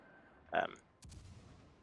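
Warship cannons fire during a World of Warships: Legends battle, with one muffled boom followed half a second later by a sharper blast that rumbles out. Game noise and background sound continue underneath.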